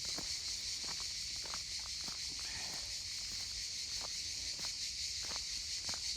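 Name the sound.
cicadas singing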